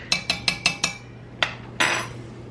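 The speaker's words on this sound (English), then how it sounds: "then I stir my sweetener" A teaspoon stirring sweetener in a tea cup, five quick rhythmic clinks against the sides, then a pause, a single clink and a final longer scraping ring, close and clear.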